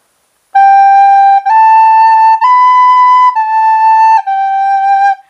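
A recorder blown with a steady breath plays a clean, bright run of five sustained notes, each held about a second, stepping up and back down, close and loud with no talking.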